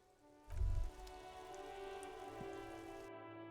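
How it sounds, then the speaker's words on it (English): Steady light rain patters on surfaces in the Disco Elysium video game, a soft continuous hiss with a brief low thump near the start, then an abrupt cut to silence at the end. "This rain will not let up anytime soon."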